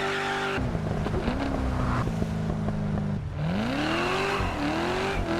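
Car engines growl and rev in the TDU Solar Crown racing game, with pitch climbing and dropping through gear shifts and acceleration. Bursts of tire squeal come through loud and close, with no talk over them.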